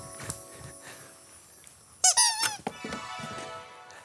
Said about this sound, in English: They're very squeaky, aren't they?